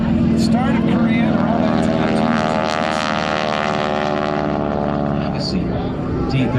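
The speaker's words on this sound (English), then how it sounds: "T-34. The reciprocating big engine on the front, somewhere around 300 and something horsepower on the T-34 mid-turn" A T-34 trainer with a big reciprocating engine of roughly 300 horsepower drones loudly overhead at a Miramar air show, a steady propeller roar sustained throughout, with crowd and commentary voices underneath.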